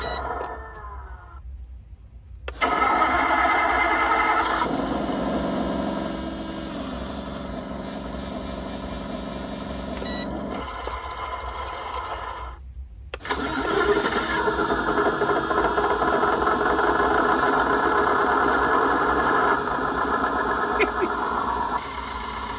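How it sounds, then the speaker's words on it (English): A small motor drones steadily with a rough mechanical rumble, cutting out briefly twice before starting up again at a similar level: the engine sound effect of a 1/16 scale Churchill Mk VII model tank. "That sounds like a tractor engine."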